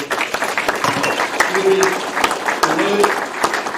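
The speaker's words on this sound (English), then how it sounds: "a big round of applause for our amazing guests" Audience applause for guests at a FOCSA gathering, a steady wash of clapping with shouts and voices mixed through it.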